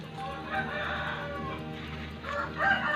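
Native Thai backyard chickens crowing on a village farm, two drawn-out crows heard in sequence, moderately near over a steady background hum.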